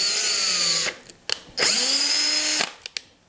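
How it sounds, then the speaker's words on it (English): A power drill tapping 6-32 threads into drilled holes during final assembly of a steampunk Stirling engine. Two loud close whirring runs each wind down in pitch as the motor slows, separated by short clicks and a brief pause. "I've got all these holes drilled, and these all need to be tapped out to number 632"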